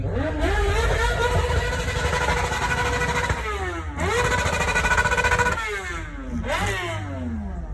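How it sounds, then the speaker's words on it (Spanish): A motorcycle engine revs repeatedly at a car meet on Veirs Mill Road in Maryland, loud and close, rising and falling through several throttle bursts with a steady rumble underneath. "La moto."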